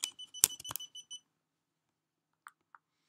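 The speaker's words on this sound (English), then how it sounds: "That's my camera beeping in the background." A camera gives a quick run of sharp electronic beeps, then silence broken by two faint, brief tones.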